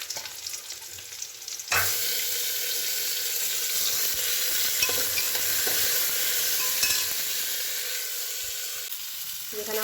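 Spices and tomato frying in a pan: a quieter sizzle suddenly swells into a loud, dense, continuous hiss and crackle as the tomato hits the oil, holding steady close by with faint stirring clicks and no talking.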